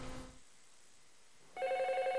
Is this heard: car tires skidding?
no